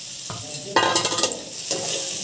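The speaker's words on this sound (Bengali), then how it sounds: "মশলা আর ভাজা মাশরুমগুলোকেও আবার ভেজে নেব।" Mushrooms with spice masala frying in a pan, with soft sizzling and a few bursts of stirring and utensil scraping and clinking, fairly close and with no voices.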